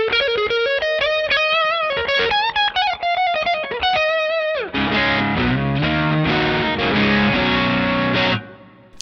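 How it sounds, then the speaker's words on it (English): Distorted electric guitar played through the neck-position Fender Tex-Mex pickup and a drive pedal: loud chords and single-note lines with a bright attack, then thicker sustained chords ringing out before fading at the end. "And I have a Fender Tex-Mex in the neck here."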